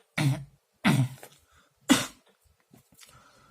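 Three distinct, loud coughs from one nearby person, spaced about a second apart, followed by a fainter fourth cough and soft throat noise.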